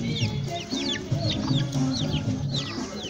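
Chickens cluck and chirp continuously in a backyard chicken coop, several birds close by, with overlapping calls and no talking.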